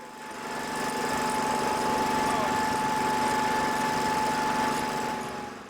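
A Wright 1820 radial engine of about 1,200 horsepower on a Boeing B-17 runs with a steady, throbbing drone, swelling in and holding loud and even before easing slightly at the end.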